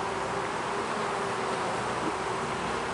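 Honey bees swarming around an open hive during a summer inspection, a dense, continuous buzzing drone filling the air, loud and close with no pauses.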